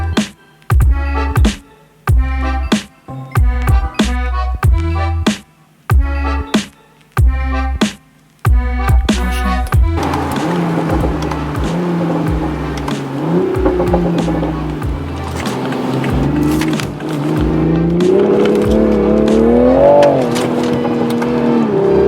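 A 2020 Toyota Supra (A90) driving on a wet road, starting with a string of sharp rhythmic revs cut by short gaps, then settling into a continuous loud engine drone that rises and falls in pitch as it accelerates, with road hiss underneath.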